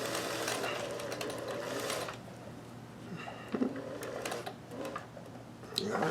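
A Singer 431G sewing machine stitches lace onto a bodice with the standard foot, running as a steady continuous mechanical whir with a faint ticking rhythm throughout, close and moderately loud with no speech.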